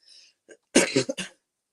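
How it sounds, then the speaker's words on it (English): A short, harsh cough close to the microphone, two or three rough bursts after a brief faint breath. "as you can hear, still have a slight cough"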